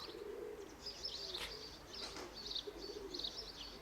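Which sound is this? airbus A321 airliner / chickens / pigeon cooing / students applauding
pigeon cooing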